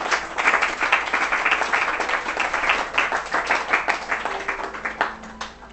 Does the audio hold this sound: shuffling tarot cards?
no